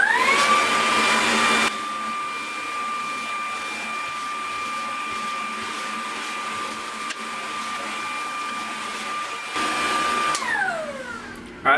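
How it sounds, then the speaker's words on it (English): A vacuum cleaner runs steadily while dust is cleaned from a bathroom vent cover, a loud continuous whine with a bright tonal hum. Its pitch and loudness shift briefly as the nozzle meets the cover, then the motor winds down at the end. "I'm going to vacuum it off real quick"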